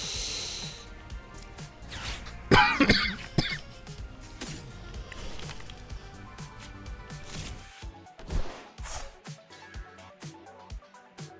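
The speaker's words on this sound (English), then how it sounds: "Had a big coughing fit." A streamer has a coughing fit during a late-night live stream of a Pokémon Grass-type GLC run: several harsh, close coughs cluster together, then more bursts follow after a pause, over ongoing background sound.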